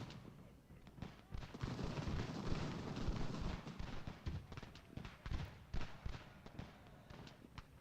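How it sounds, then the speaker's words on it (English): Cannon and artillery fire in Ultimate General: American Revolution, a battlefield game, with repeated booming shots and crackling volleys layered over a dense, rumbling din that swells and fades throughout. "Load those cannons up."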